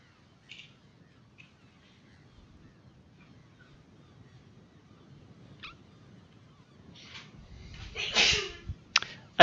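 A single sharp sneeze bursts out near the end, close and fairly loud, after several seconds of faint low background hum and scattered small clicks.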